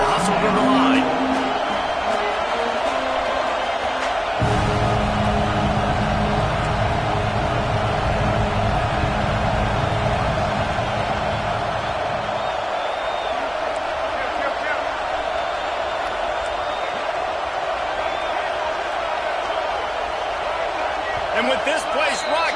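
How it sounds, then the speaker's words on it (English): Stadium crowd in a College Football 26 video game roaring steadily throughout a crowded Ole Miss Rebels home game, a dense, sustained din with a heavier low rumble midway, under commentator talk. "with this place rocking, the crowd forces a false start"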